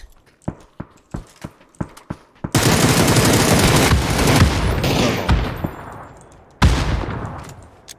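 Gunfire in a shooting video game starts as a run of sharp single shots. A long, loud sustained burst follows, fading out, then another sudden burst near the end.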